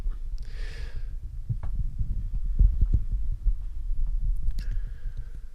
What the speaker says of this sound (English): So that's the kind of noise that the SM7B makes when it's attached to the old arm